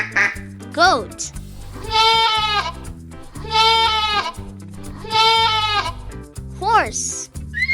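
A goat bleats three times in long, wavering calls over steady backing music, with a bright voice speaking briefly before and after.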